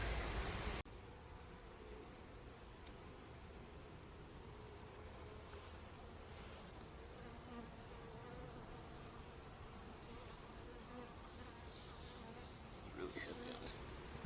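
Honey bees buzz steadily through an open hive during a full inspection, a dense continuous hum from many insects close by, with a few brief louder passes and no talking.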